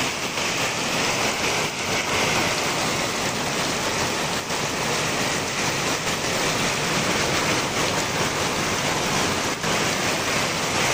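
Heavy rain pours down steadily with a dense, loud, unbroken hiss, the roar of a downpour flooding the street, continuous and close with no talking.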